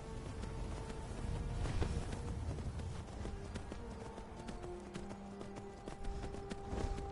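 Horse hooves galloping in the video game Skyrim, played in survival mode on PS5, a steady clip-clop running under game music and ambient noise, fairly close and continuous.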